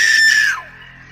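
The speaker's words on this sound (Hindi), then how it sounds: "तभी अचानक एक औरत की भयानक चीख" A woman lets out a terrifying, piercing scream in a tunnel, loud and shrill, sliding downward in pitch before fading into a faint echoing tail.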